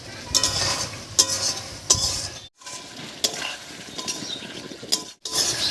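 Potatoes stir-fried with spices in a pan for a Bengali village-style fish curry, with repeated scraping of a utensil against the pan over a soft sizzle, in short rhythmic bursts and brief pauses.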